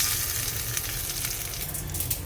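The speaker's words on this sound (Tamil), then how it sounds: "கொஞ்சம் உளுத்தம் பருப்பு நல்லா போட்டுட்டு அதை தாளிச்சிடுவோம்" Urad dal and mustard seeds tempering in hot oil, a dense, steady sizzle and crackle close up throughout, with no talking.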